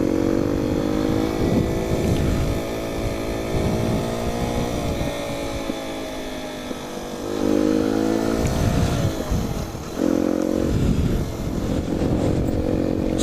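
A Sinnis Apache 125 motorcycle fitted with a DEP System3 exhaust and upjetted carburettor runs loud and close, its engine note rising and falling through several revs with steady harmonic drone and no talk.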